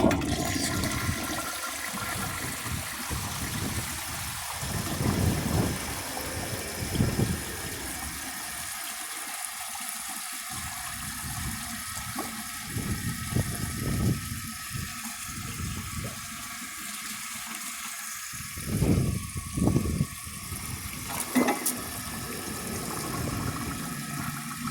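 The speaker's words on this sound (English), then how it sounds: "So it is almost done filling, and then I'll give it a flush." A 1951 Kohler Wellworth toilet with its original tank flushes close up in loud gushing surges, followed by a long rushing, gurgling refill of water.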